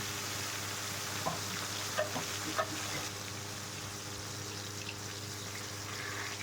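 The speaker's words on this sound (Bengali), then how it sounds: "কড়াই গরম হয়ে গেছে এরপরে এক এক করে আমি মাছগুলো দিয়ে দেব" Large tilapia pieces fry in oil in a hot wok, giving a steady, faint sizzle with a few soft clinks early on, and no voices.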